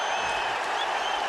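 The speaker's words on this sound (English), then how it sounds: "as the crowd reacts to the replay" A large arena crowd at a fight event roars and applauds in a steady, dense wash of cheering and clapping, loud and continuous with no clear breaks.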